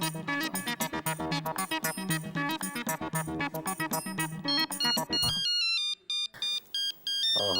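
A phone ringtone plays a repeating electronic melody, loud and close, in rapid bursts that break into a sparser chiming pattern near the end, with no talk.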